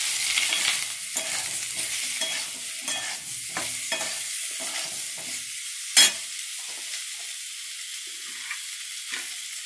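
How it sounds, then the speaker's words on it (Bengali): Fish being stirred in a hot pan with salt and turmeric, a steady frying sizzle broken by repeated scraping strokes of a spoon and one sharp clatter, close and moderately loud with no voices. "একটু নেড়ে চেড়ে নেব।"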